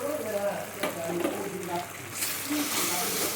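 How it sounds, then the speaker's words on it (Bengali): Salt, turmeric and chili paste with ground poppy seed paste lightly stirred in a sizzling pan, a steady frying hiss with soft scraping strokes that swells louder toward the end. "দিয়ে হালকা নাড়াচাড়া করে নেব"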